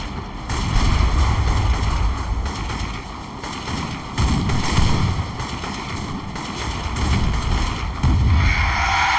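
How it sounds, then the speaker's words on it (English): Scatter shot cannons fire in repeated heavy booming volleys during an airship battle in the Airships: Conquer the Skies video game, loud, dense and continuous, with no talking. "Use the scatter shot cannons!"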